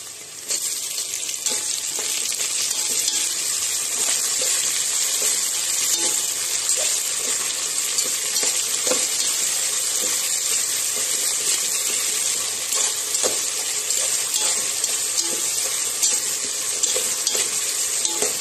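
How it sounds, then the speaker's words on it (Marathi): Chopped onion and tomatoes fry in a pan while being stirred, producing a loud, continuous sizzle with scraping stir strokes close up and no voices. "कांदा चांगला परतून घेतला. आता टोमॅटो टाकून घेऊया."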